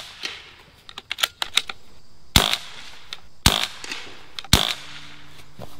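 Budget air gun shots fired at a bullseye target, three sharp, loud cracks spaced about a second apart, after a run of lighter clicks and handling taps.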